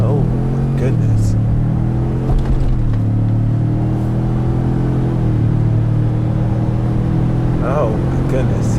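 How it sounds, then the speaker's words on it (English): A Ford 2.7 EcoBoost truck accelerates from a stop to 60 mph in four-wheel drive auto mode. The engine drones loudly from inside, its pitch climbing steadily and dipping briefly at gear shifts. "0 to 60 in four-wheel drive auto"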